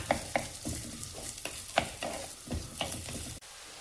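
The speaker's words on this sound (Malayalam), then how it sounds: "ഇനി അതിലേക്ക് അരിഞ്ഞു വെച്ചിരിക്കുന്ന ഇഞ്ചി ചേർക്കാം. ഇതിൻ്റെ രണ്ടിൻ്റെയും പച്ചമണം ഒന്ന് മാറിക്കിട്ടണം." Chopped ginger and garlic fry in a hot pan for a curry, a soft sizzle broken by rhythmic scrapes and clacks of a spoon stirring, close up, ending with an abrupt drop.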